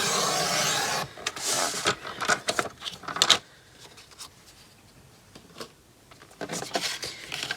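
Paper being trimmed for a craft folio, close rasping cuts and rustling scrapes in bursts, a quiet pause in the middle, then more cutting strokes at the end, with no talk.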